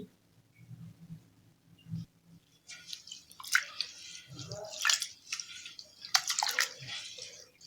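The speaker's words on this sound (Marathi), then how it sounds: "अशा पद्धतीने चोळून धुवून घ्यायचे आहेत दोन तीन वेळा" Idli grains being rubbed and washed by hand in water, with fenugreek among them: irregular close sloshing and scrubbing splashes start after a few quiet seconds and come in bursts.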